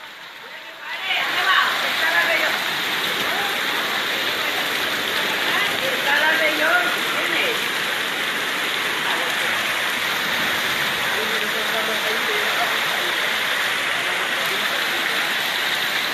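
Loud, steady rush of churning floodwater during 2018 flooding in Pedralba, Valencia, fills the scene from start to finish, a dense broadband roar with a voice briefly heard beneath it.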